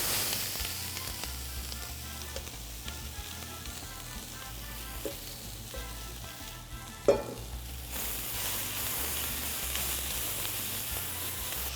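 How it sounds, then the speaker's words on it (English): Green pepper and onion sauté over high heat in a pan, a steady loud sizzle and hiss that runs throughout, with an occasional clink of a utensil. "We're sauteing the vegetables on high heat"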